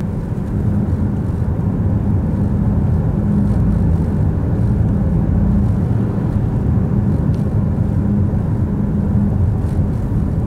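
A Ford Escape engine surging and hunting at idle gives a loud, continuous low rumble that swells and sags slightly in level over several seconds, heard close with no voices.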